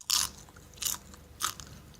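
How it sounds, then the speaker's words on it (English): Crunching sound effect in a children's story reading about a scary camp-out in a tent: three crisp, separate crunches like biting into something brittle, close and clear with no talk. "I hear crunching"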